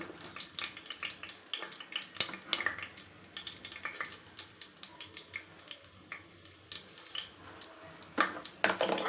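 Cumin and mustard seeds dropped into hot oil for poha, a close crackling sizzle with scattered sharp pops and spits, quiet and irregular with no talk.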